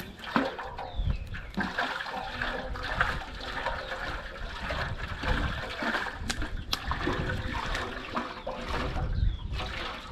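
Water poured into an aluminium sufuria pot, a continuous close splashing and gurgling stream with small fluctuations, lasting the whole stretch with no speech.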